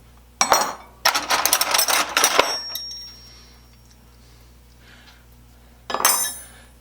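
Metal drill bits clink and rattle as they are handled in a workshop, two bursts of jingling then a pause before a final clatter, close and fairly loud.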